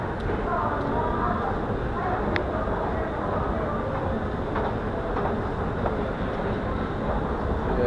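Steady rumbling of a subway train in motion, with faint clicks and clatter over the continuous roar, heard from inside a car.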